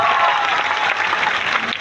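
Crowd at a rally clapping loudly and steadily, a sustained wash of applause with no pause.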